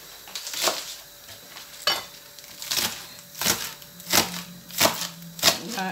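A knife chops ingredients for goat and chicken curry on a cutting board with close, regular taps about every half second, some soft scraping between strokes.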